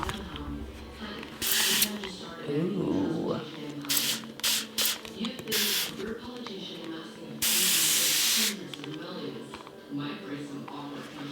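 Spray can spraying white paint for a still life painting, several short hissing bursts and one longer spray, with a person talking quietly in between.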